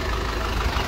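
A motorcycle engine idles with a steady low rumble, close and continuous, over one short moment with no voices.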